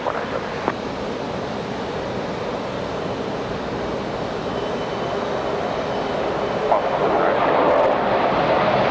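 An airplane at Raleigh Durham International airport roars steadily with a broad, loud engine rumble that swells slightly over several seconds, with faint voices beneath.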